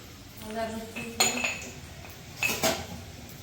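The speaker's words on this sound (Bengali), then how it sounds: "আদা রসুনটা একটু থেতো করে নিচ্ছে" Ginger and garlic are crushed in a kitchen, with two or three sharp metallic clinks and knocks standing out from a quiet background. A voice speaks briefly near the start.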